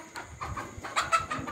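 A 7.5-month-old Fayoumi hen on a poultry farm gives a few short, nearby clucks in uneven bursts over a quiet background.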